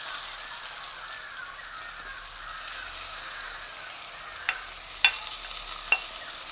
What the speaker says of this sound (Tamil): இப்படியே நாங்கள் திறந்துடுவோம். பாருங்க, இந்த மாதிரி மடங்கின பிறகு நாங்கள் பேர கருவாடை போட்டுக்கொள்வோம்.